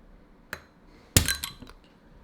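A glass marble bottle is opened by pushing the marble down: a small click, then a sharp glassy clack followed by a short burst of rattling and fizzing, close and fairly loud.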